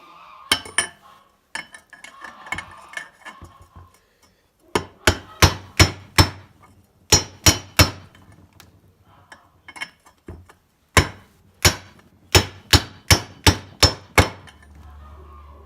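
A 1 1/8 inch socket is hammered to seat a bearing race on a Honda Recon, with sharp metallic strikes in quick bursts of four to six separated by short pauses. The blows sound loud and close, with some faint handling noise between them.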